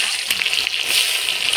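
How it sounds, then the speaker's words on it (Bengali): Chopped onion dropped into hot oil with whole spices (cumin, bay leaf, cardamom, cinnamon, cloves, dried chilli) gives a steady, close, bright sizzle that holds level throughout, with no talking. "এবার কুচিয়ে রাখা পেঁয়াজ দিয়ে দিব"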